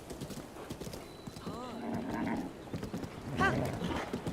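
Horse in Breath of the Wild, quick clip-clop hooves with a short whinny rising out of the mix, all faint and under a talking voice.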